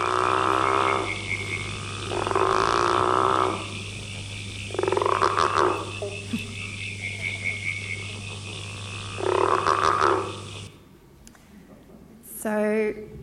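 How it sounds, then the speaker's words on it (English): A green growling grass frog calls in repeated long, rasping, growl-like croaks, four drawn-out bursts spaced a few seconds apart over a steady background hum, with a brief voice near the end. "This is a growling grass frog, one of our iconic green frogs."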